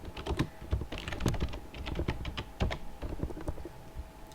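Rapid, uneven clatter of computer keyboard keys typing a file name, close and fairly quiet, with no voices.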